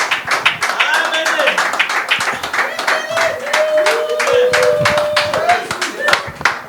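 A church congregation claps steadily and cheers with rising voices, loud and close, with a speaker's voice over the applause.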